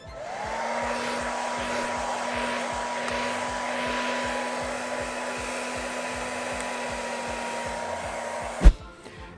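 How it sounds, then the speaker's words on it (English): A hair dryer blows steadily to dry primer and blue paint, giving a loud constant whirring rush with a steady motor tone, then clicks off near the end. "we're going to dry it again with the air dryer, our hair dryer, for a fast result"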